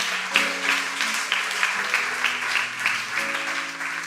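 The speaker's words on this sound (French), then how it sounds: "Applaudissez-moi le Seigneur." A church congregation claps in praise of the Lord during a French-language sermon, rhythmic, fairly even clapping for a few seconds with a sustained musical tone underneath.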